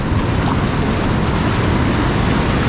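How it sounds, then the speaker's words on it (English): Ocean surf breaks on the beach at La Libertad, El Salvador, a loud, continuous wash of waves with wind rumbling over the microphone. "Some of these waves are bigger than the others."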